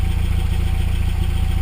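A 1993 Toyota pickup's 22RE four-cylinder idles through its stock muffler and small pipe, a steady close-up low putter with even pulses throughout.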